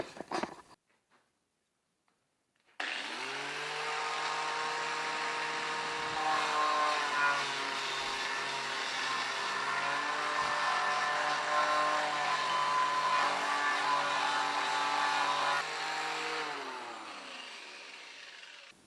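A power tool grinds rust off metal in one long continuous run, a loud steady whine that starts abruptly after a short quiet gap and holds even pitch for about thirteen seconds before winding down, with no talk.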